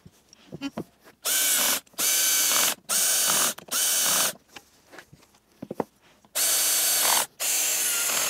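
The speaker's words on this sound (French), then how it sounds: "Ensuite, on visse les 3 pieds et le module de commande." Parts being screwed onto the frame of a Longer Ray5 10W laser engraver: bursts of a power screwdriver whirring for about half a second to a second each, separated by short pauses with small clicks and handling noises.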